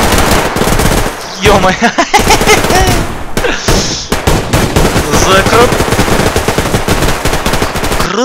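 Heavy, continuous machine gun fire in the shooter game Survarium rattles loud and close in dense bursts, while a man exclaims over the shooting.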